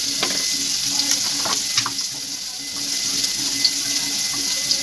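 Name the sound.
frying spices in pan for homemade pizza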